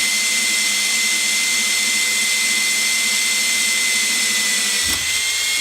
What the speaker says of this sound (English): while the drill bit's going